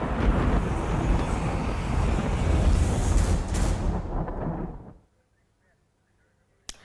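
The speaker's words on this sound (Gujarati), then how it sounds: "દરિયામાં ઊંચા ઊંચા મોજા ઉછળ્યા" Rough, stormy sea at Daman with high waves surging, a loud broadband roar buffeted by wind that fades out abruptly into near silence, ending with a single sharp click.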